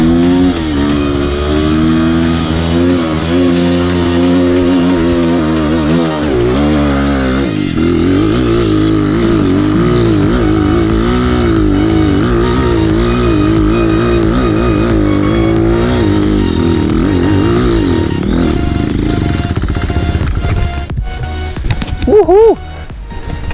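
A Honda CRF 230 dirt bike engine labors and revs loudly up close, pitch rising and falling as it strains up a steep hill, with a final sharp rev near the end.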